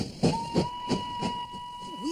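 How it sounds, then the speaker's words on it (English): The Bombay Calcutta Express pulls away, with rhythmic chuffing bursts under a long, steady whistle tone. A faint warble follows near the end. "Announcing the departure of the Bombay Calcutta Express."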